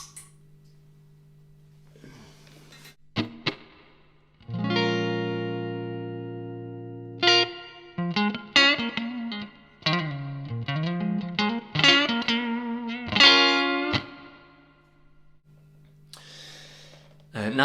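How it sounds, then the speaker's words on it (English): Electric guitar runs through a Kingsley Maiden D valve preamp pedal with added reverb from a Kingsley Caverns pedal, playing sustained chords and then quick melodic phrases, clean and open with a reverberant tail. "I stick on a little bit of reverb from the Kingsley caverns"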